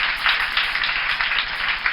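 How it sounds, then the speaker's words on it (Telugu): Steady applause from an audience at a Telugu public event, dense continuous clapping sustained throughout without pauses, fairly loud and close. "గట్టిగా అందరూ కూడా చప్పట్లు కొట్టి అభినందించండి"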